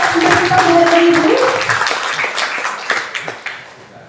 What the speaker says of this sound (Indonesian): Boleh tepuk tangannya untuk narasumber kita hari ini.